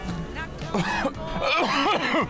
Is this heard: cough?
yes